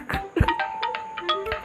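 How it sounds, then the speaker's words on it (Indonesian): A short electronic ringtone melody from a phone call, a few bright tonal notes in quick succession, close and clear. "Ya udahlah, kita telepon si Artono aja"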